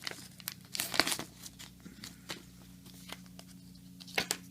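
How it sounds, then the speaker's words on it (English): A trading card pack wrapper is torn and ripped open by hand, close and faint crinkling and tearing in several quick bursts, heaviest at the start and again near the end. "This is the first one I actually had to rip properly open like that."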